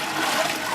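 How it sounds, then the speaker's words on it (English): Nutrient mixture for tomato Dutch buckets pours steadily into a bucket, a continuous close rushing of liquid with no pause through the short moment. "pour it into the bucket,"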